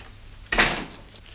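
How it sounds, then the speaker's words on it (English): A door is shut in a single solid thud that rises sharply and then fades in a short decay. Quiet room tone surrounds it. "Go outside and close the door."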